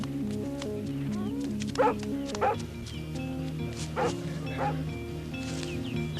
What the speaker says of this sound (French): Oh, le joli chien.